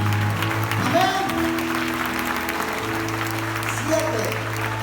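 A church congregation claps for the Lord during a sermon, a continuous broad patter of many hands over sustained keyboard chords, with a brief voice rising in the middle.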